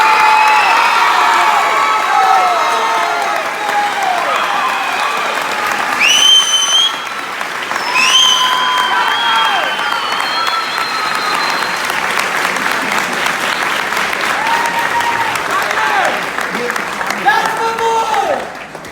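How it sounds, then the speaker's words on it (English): An audience bursts into sustained applause with cheering and whoops at a ceremony honoring a West Point admission, loud and continuous throughout with shouted voices rising above the clapping. "You can applaud at any time."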